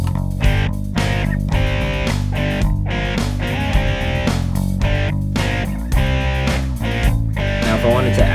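A three-track home recording of bass, distorted guitars and drums playing together, loud and continuous with steady rhythmic drum hits under the guitar chords, no talking.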